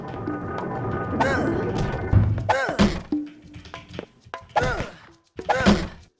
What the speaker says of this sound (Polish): Otwierać wrota.